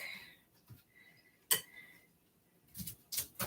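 A knife chops broccoli on a cutting board in a few quick, sharp knocks spaced unevenly across a quiet kitchen background.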